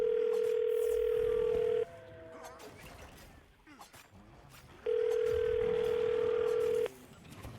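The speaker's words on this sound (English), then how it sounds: "We're going to call her right now, see if we can get her on the phone" A steady telephone dial tone plays loudly for about two seconds, breaks off into a stretch of quieter line noise and faint sounds, then returns for another two seconds as a call is placed.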